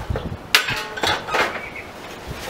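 A few sharp metallic clinks and knocks as a small welder's chipping hammer is picked up and set down, close by, with quiet pauses between.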